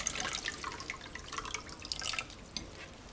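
Cold tap water runs over shrimp being rinsed in a sink, giving a light patter of drips and splashes that comes and goes for about three seconds, close by and fairly soft, with no talking.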